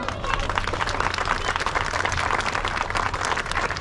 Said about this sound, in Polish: Feruga Wątroba, gorące brawa!